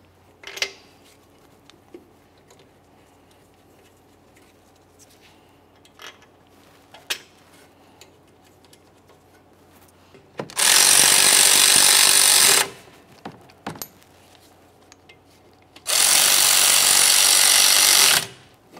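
Caliper bolts on a 2001-2005 Ford Explorer Sport Trac being run in with a power tool: two loud, sustained bursts of whirring, each about two seconds long, between quiet stretches with scattered small metallic clicks and taps.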